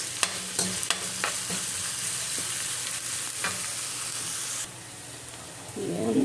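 Onions frying in a pan for a quick home dinner, a continuous soft sizzle with light clinks and stirring scrapes, the hiss dropping briefly near the end.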